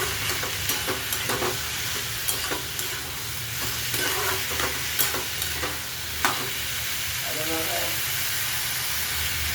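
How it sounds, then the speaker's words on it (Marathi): Ivy gourd (tondli) sizzles and hisses steadily in a hot pan while being stirred, with scraping spatula strokes and light clicks over a continuous frying crackle. "तोंडले टाकून घेऊ. एक जीव करू छान असं."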